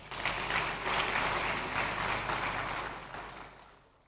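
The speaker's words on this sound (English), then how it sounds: "Give them a round of applause." A crowd claps at a 2024 convocation ceremony, a broad, steady roar of hands that holds for a few seconds and then tapers away toward the end.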